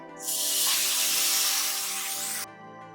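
Raw chicken pieces hitting a hot pan set off a sudden loud sizzle that holds as a strong, even hiss for about two seconds, then drops sharply to a quieter crackle.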